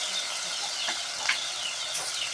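Broad beans, onions and tomatoes fry gently in a pan for a curry, a soft continuous sizzle with a few faint stirring scrapes, close and steady throughout.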